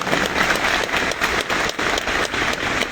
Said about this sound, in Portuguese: Uma salva de palmas para o Padre Douglas.